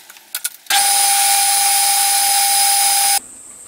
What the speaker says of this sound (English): So I'm going to center drill this now